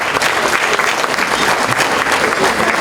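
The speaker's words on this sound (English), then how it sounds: "Can you just all give them a round of applause" An audience at a foundation gala claps steadily, a thick, even wash of applause that holds at full strength throughout, close and loud, with a faint murmur of voices beneath.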